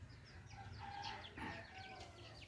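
In a village courtyard shared with ducks and cats, chickens give faint, scattered clucks and a drawn-out crowing call at a moderate distance.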